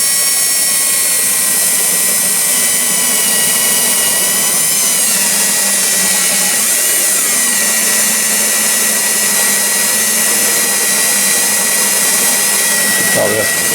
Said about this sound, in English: Drilling a 3/16 hole in the frame of a Prius.